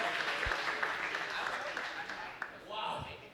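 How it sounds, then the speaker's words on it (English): A large audience applauds Splyce, Stage 1 playoff champions at the CWL Global Pro League grand finals, with steady broadband clapping throughout as a voice talks over it. "Give them a round of applause."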